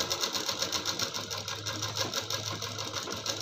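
A sewing machine runs at a steady rapid clatter while stitching a blouse neck with lace, its needle beat regular and close, with a low motor hum underneath and no pauses.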